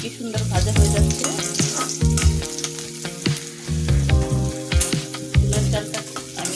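Close, loud crackle of sun-dried chips frying in very hot oil, with steady sizzling, bursts of popping and repeated metallic stirring knocks throughout.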